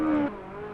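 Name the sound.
race car tires sliding, video game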